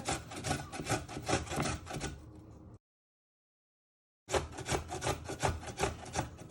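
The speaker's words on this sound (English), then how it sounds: "After when you have grated all your fine ginger like this" Fresh ginger scraped on a sharp grater in quick, rhythmic rasping strokes, close and clear, with a short silent pause partway before the grating resumes.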